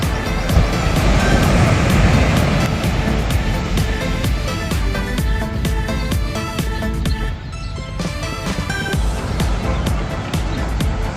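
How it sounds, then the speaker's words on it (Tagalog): Large ocean waves crash and wash continuously onto the shore, a loud, steady roar of surf with rushing water throughout. "Lalaki ng alon."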